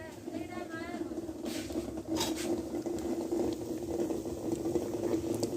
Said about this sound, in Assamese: উতলিছে পানী